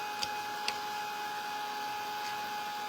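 A heat tool dries paint on a stenciled snowman craft sign, giving off a steady whirring motor hum with a high whine, and a couple of faint ticks near the start.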